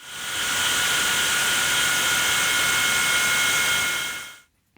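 A DeWalt DW717XPS sliding compound mitre saw runs through a bevel cut with a loud, steady high-pitched whine that holds for about four seconds and then stops abruptly, close and alone.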